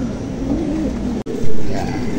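Pigeons in a cage coo softly and continuously beneath a man's speech, with a brief clatter near the end.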